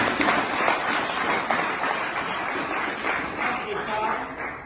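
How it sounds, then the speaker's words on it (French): Crowd applause and cheering at an outdoor rally welcoming General Dodos joining the AFC M23 in Nzibira, DRC; a dense, steady wash of clapping and shouting continues throughout with voices mixed in. "Acclamez encore très fort"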